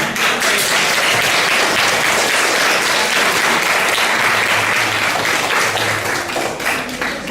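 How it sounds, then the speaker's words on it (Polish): A school year-end ceremony audience breaks into loud, steady applause for a pupil receiving an award, a dense wash of hands clapping throughout that thins slightly toward the close. "Brawa!"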